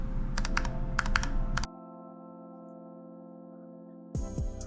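Rapid clacky keystrokes on a Razer Deathstalker V2 Pro keyboard fitted with Keychron switches, close and crisp, in two quick bursts separated by a steady low hum.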